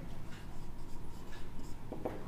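A pen scratches steadily across paper while a solution is written out by hand, close and soft, with short strokes in an even rhythm and no talking.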